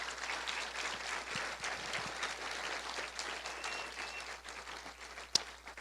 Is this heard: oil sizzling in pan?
no